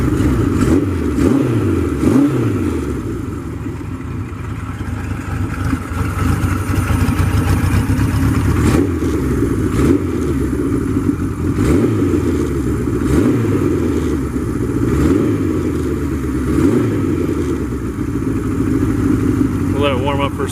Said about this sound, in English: We'll let it warm up for a second here with the choke on.